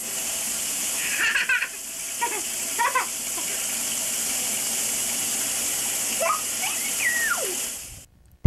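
Water runs from a faucet in a steady, loud rushing hiss that lasts about eight seconds, with a few faint chirpy tones over it, then cuts off abruptly.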